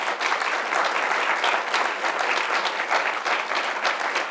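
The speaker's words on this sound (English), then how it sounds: "You can give a round of applause." An audience at an open house and ceremony applauds steadily, a dense wash of many hands clapping throughout with no break.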